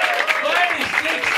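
Comedy club audience at a crowd-work stand-up show in Oslo or Berlin giving a round of applause, a dense steady clatter of clapping mixed with cheers and crowd voices throughout.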